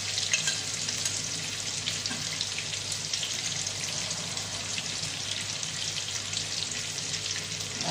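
Fried fish pieces sizzling in a pan with butter, a dense continuous crackling hiss at an even level, close and alone without talk.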